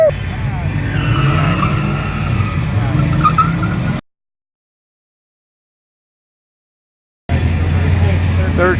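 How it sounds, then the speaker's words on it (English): Cars launch in a quarter-mile drag race with loud tire squeal and roaring engines close by, broken by a few seconds of silence before the engine noise resumes. "about to do a quarter-mile drag race"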